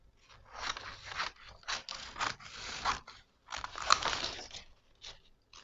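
Scissors cutting dress fabric for a waist-tie dress, a close run of crisp snips and crunchy slices in bursts separated by short pauses, each cut rasping through the cloth.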